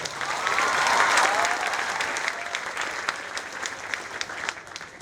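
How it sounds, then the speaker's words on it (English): Audience applause for Buzz Aldrin, second man on the Moon, fills an event hall: a sustained, dense clapping from a large crowd that swells early, then eases slightly while continuing steadily to the end, with no talk over it. "I need a huge round of applause"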